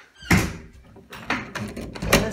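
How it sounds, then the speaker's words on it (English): A house door, the one leading down to the basement and garage, opens with a few knocks and a latch or hinge clunk across a couple of seconds, close by in a quiet room. "And then there's this door."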